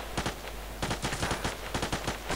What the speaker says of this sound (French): Non, il me tire dessus.